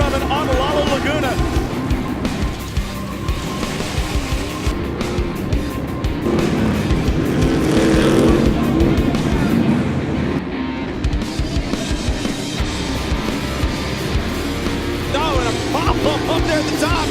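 Off-road super trucks race around a stadium track, their engines roaring continuously and loudly beneath excited commentary and crowd noise.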